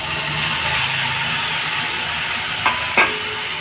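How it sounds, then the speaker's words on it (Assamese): Fried vegetables and flour being stirred in a pan, a steady scraping and frying hiss with two sharp clinks of the utensil near the end. "এতিয়া ভালদৰে মিহলি কৰি লওঁ আটাখিনি"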